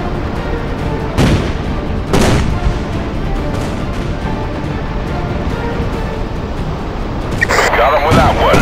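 A naval battle in the Battle of the Philippine Sea in the video game Battlestations Pacific: sharp gunfire blasts and booms stand out over a constant dense rumble of battle, with a bright, harsh burst of fire near the end.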